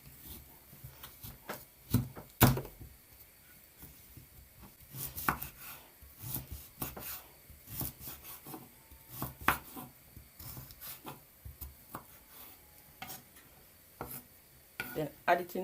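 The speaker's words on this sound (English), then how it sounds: "cutting up my pumpkin," A knife chops pumpkin on a board in a home kitchen while a Jamaican-style porridge is being made, giving irregular close knocks and scraping cuts, some sharp and loud, over a quiet background.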